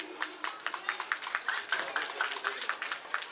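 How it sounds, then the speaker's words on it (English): A few people clap for a student called to the stage at Iqra English School's annual cultural program and prize distribution, sparse, fairly even claps in a steady rhythm at moderate level. "Please give a huge round of applause for him."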